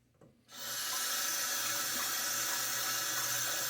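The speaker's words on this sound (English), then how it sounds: "I'm going to rinse off the handle with the brush, make it easier to hold on to." Tap water runs steadily into a sink while a shaving brush handle is rinsed, a near, even rushing stream that starts abruptly after a brief quiet moment and continues alone without speech.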